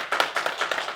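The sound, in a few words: congregation applauding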